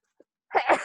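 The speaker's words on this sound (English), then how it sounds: "I have to sneeze." A person's sneeze bursts out loud and close, a single short explosive blast after a tiny intake of breath. No other speech can be heard.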